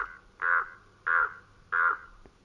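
A raven sound effect from the Planet Coaster 2 video game: three loud, harsh crow-like caws spaced evenly about half a second apart, each standing alone against a faint background hum.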